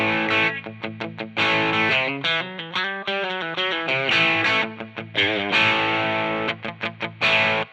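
Electric guitar through the Amplitube 5 amp simulator, without a pedal, gain around 4, playing a lively riff of quick chords and single notes in a crunchy overdriven tone, close and continuous.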